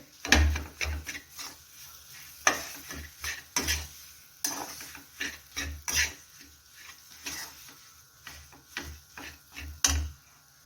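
A spoon stirs a pea filling in a pan, scraping and clinking against the metal in steady, uneven strokes close by, with light sizzling underneath.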